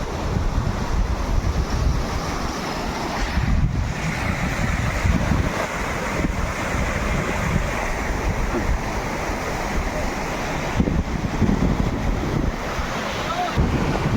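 Floodwater rushing past in Nabarangpur, Odisha, a dense steady roar of flowing water mixed with heavy wind buffeting on the microphone, continuous and close.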